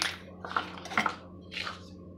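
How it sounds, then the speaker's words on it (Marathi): A spoonful of mustard seeds goes into hot oil in a pan for an idli tempering, giving short bursts of crackle and metallic clinks in three quick clusters before the pan quiets. "तेल तापत आलं की आपण त्यात टाकायचं आहे 1 चमचा मोहरी"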